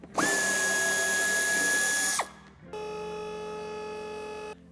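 A cordless power tool removes bumper screws with 8 mm heads from a 2017–2024 BMW X3 G01, running in two close bursts, a high-pitched whine for about two seconds, then a steadier lower drone.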